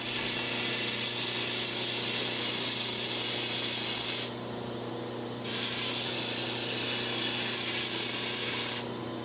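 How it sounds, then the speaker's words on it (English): Damascus steel chisels are blended on the slack belt of a belt grinder, making a loud, steady abrasive hiss that drops away briefly twice as the work is lifted off the belt and pressed back on. "I'm going to blend everything in on the slack belt of my grinder."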